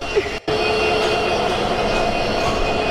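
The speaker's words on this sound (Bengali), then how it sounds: "আরো একটা ট্রেন ঢুকতেছে।" A train pulling into a railway station in Chattogram, with a loud, continuous rumble and rolling wheel noise close by, a faint squeal above it and a short dip near the start.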